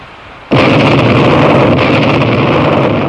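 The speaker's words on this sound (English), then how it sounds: "A moving shock wave is what you hear when there is an explosion" A sudden loud explosion bursts in and continues as a sustained, rumbling roar of broadband noise, close and heavy.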